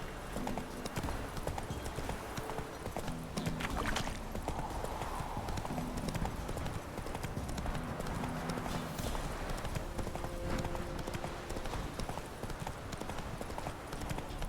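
Geralt's horse Roach in The Witcher 3: Wild Hunt, rhythmic hoofbeats pounding continuously and loudly at a fast pace throughout, with game ambience beneath.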